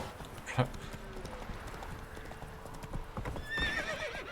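Horse hooves clip-clop steadily on hard ground in the video game The Witcher 3, with a horse snorting and a short whinny near the end, all over a low ambient background.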